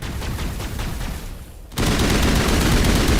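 Gunfire in a 2007 space RPG video game, a dense, loud burst of rapid shots that starts abruptly and keeps going without a break, with no talk over it.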